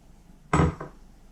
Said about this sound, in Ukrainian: Змішаємо яйця